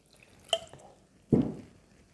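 Water is poured into a dough mixture in a home kitchen: a faint drip, then a short louder splash, close by and with no talk.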